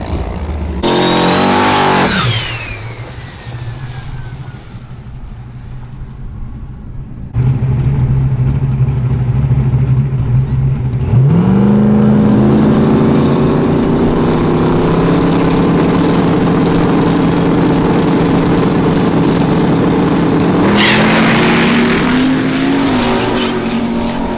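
Turbocharged cars, a Fox Body and an S10, racing at a local drag strip, a loud engine roar and rapid rev climb, a short idle, then a long sustained high-revving launch and pull with turbo whine, close and dominant.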